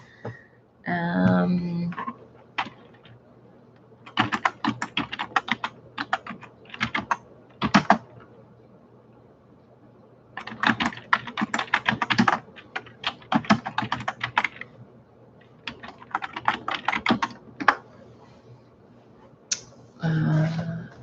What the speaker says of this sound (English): So I'm going to just type this out for everyone.